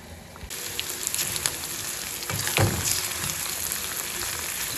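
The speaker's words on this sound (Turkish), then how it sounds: "Şöyle burada soğanım kavrulsun." Onion frying in a pan in a village-house kitchen, a soft continuous sizzle with faint crackles and a few clinks of utensils, close and steady with no talk.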